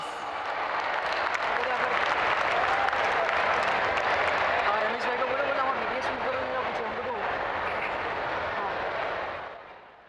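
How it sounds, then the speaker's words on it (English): Large crowd at a Commonwealth Weightlifting Championship opening ceremony applauds in welcome of the Minister of Sports, loud continuous clapping that swells, holds for several seconds, then fades out near the end. "Please welcome him with a big round of applause"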